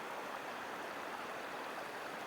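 Floodwater from heavy Hurricane Beryl rain rushes steadily past, a constant broad roar of flowing water with no breaks and no voices.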